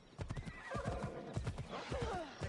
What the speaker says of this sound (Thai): ขี่ม้าแบบใหม่